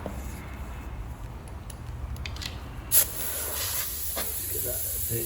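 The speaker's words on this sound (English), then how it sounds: "this is stuck in as well, so I'm going to use some compressed air to get it out." Compressed air hissing steadily while blowing a stuck piston out of a Mercruiser trim ram rod during a strip-down, with a sharp pop near the middle as the piston breaks free, followed by continued broadband hissing.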